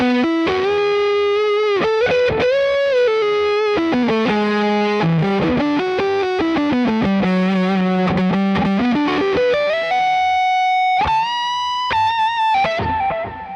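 Electric guitar with a humbucker pickup played through heavy distortion, sustained notes and bends ringing out alone with a thick, saturated tone and chorus-like shimmer, ending in a sharper high phrase.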